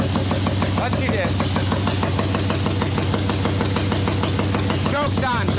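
A chopper motorcycle with the choke on runs rough and choppy just after starting, its engine firing in a steady uneven beat, close and loud throughout with a voice talking over it.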